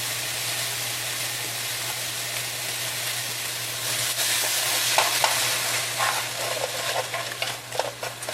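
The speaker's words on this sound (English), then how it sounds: "So, okay, stir that around a little bit." Beef extract being stirred into a pot of chili-beef vegetable soup, with a steady bubbling hiss that grows busier midway as soft scraping strokes and light clinks join in, close and with no talking.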